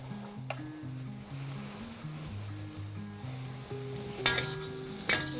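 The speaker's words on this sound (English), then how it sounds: "Give this a stir. And you want to mush these black beans in with the pork." Pork sizzles in a pan with salted black beans and salt as it is stirred and mashed, a steady frying hiss under background music, with a couple of sharper clatters near the end.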